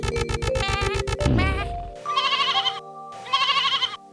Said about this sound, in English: You are a lamb, a sheep's baby, so you bleat.